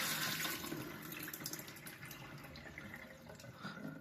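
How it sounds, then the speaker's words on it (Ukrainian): Water is poured into an open glass jar and then drained back out, a steady close splashing and trickling stream that runs for a few seconds with no talk. "набрали водички і злили водички"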